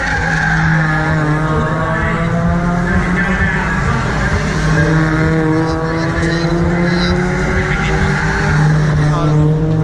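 Toyota Vios one-make race cars with manual gearboxes lap a track at a racing event in Phuket, engines droning loudly and continuously with tire squeal through a dangerous corner, under crowd and commentary noise.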